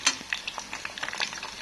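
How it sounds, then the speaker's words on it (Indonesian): An egg fries in a pan with a soft, steady sizzle, broken by quick scraping and clinking from a utensil against the pan, heard close. "Aku goreng ceplok telur."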